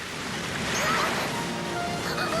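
Rising floodwater surges in a steady, broad wash of waves and rushing water, loud and continuous throughout with no break.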